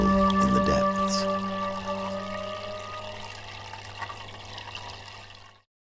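Water gushes and pours forth in a continuous rush after a rock crash deep underground, loud at the start and slowly easing off before cutting out, with a low steady hum running beneath.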